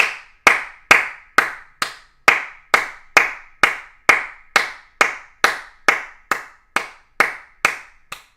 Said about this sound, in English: Clap more.